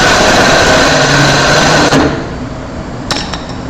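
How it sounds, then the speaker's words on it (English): Wood lathe spinning a thin workpiece while a small carbide turning tool takes a heavy cut, giving a steady, loud, high whining scrape. It drops off after about two seconds, followed by a few sharp knocks. "advantage in the little carbide tool is I can come straight in and I can take like 1/8 inch cut"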